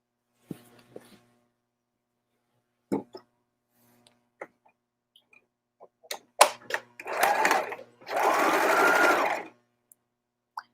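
A domestic sewing machine stitching a dart in fabric, with scattered clicks and handling knocks, then short bursts followed by a longer steady whirring run of stitches, close and clear.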